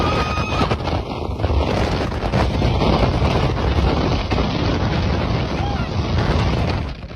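Strong wind roars on a ski lift, a loud, continuous broadband rush with gusty surges throughout and no pauses.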